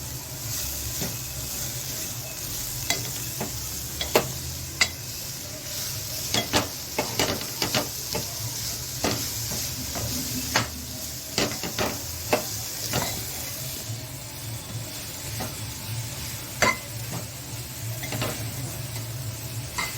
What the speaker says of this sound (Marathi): गूळ याच्यात विरघळेपर्यंत हे सारण आपल्याला व्यवस्थित परतवून घ्यायचं आहे।